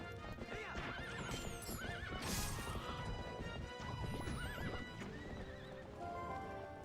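Horse in Zelda: Twilight Princess whinnying several times over steady clip-clopping hooves, with a crash partway through and game music running underneath.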